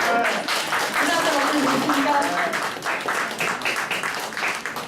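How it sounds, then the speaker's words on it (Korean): Audience at a speech concert applauding, clapping swells over a room with overlapping voices and murmur, fairly loud at first then settling into steadier scattered claps. "박수 한번 쳐주세요"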